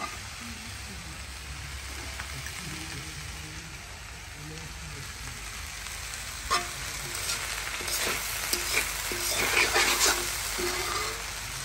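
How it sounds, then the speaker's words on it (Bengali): Fried rice being stirred and fried in a pan, a steady low sizzle with scraping stir strokes that grow busier and louder toward the end, close by with no talk. "ভালো করে মেশাতে থাকবে"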